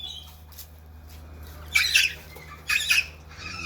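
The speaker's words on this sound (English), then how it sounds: "King parrot." Two short, loud squawking bursts from a pair of king parrots, male and female, close by outdoors, rising over a quiet background hum.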